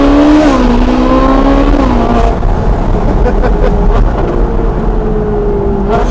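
A Ferrari 458 Speciale's engine revs hard, the pitch climbing then dropping sharply at quick gearshifts, loud and close, with a brief tire squeal and a voice talking over it.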